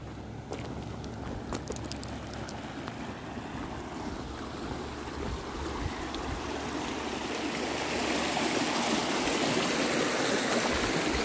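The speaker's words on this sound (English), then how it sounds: "Check out this beautiful stream, water blasting through these culverts." A clear mountain stream in Bighorn National Forest rushes through culverts in a continuous splashing roar that stays close and steady and swells somewhat louder toward the end, with no talking heard.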